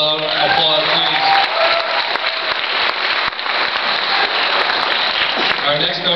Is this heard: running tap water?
no